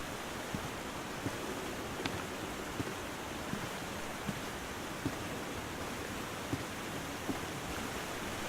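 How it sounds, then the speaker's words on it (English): Steady broadband rush of a waterfall near a partially collapsed trestle bridge in the video game The Long Dark, a constant even roar with faint regular ticks throughout and no voices. "They didn't have to put a waterfall there."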